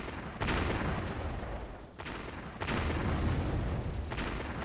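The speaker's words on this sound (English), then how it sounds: "I love artillery barrages." Artillery barrage explosions in the strategy game Warzone 2100, heavy booming blasts rolling in successive waves, loud and dense with rumbling low end, no voices.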